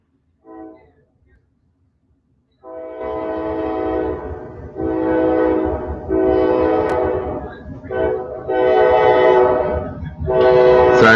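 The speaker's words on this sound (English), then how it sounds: "Sorry about the train." A train rolls past outdoors with a rumbling rail noise underneath while its horn sounds in several long, loud blasts, starting after a brief quiet moment.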